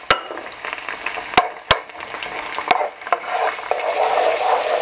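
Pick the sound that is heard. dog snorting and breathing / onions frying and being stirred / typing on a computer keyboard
onions frying and being stirred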